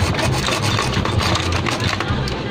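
A part is cut through during an amplifier repair, giving a close, continuous rasping, sawing scrape with a rough repetitive grind.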